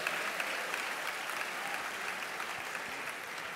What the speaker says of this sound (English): Let's give a round of applause for those who are with us for more than 65 years